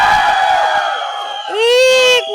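A crowd of young men at a film trailer launch event shouts and cheers loudly in a long, sustained roar that swells into a higher, stronger burst near the end.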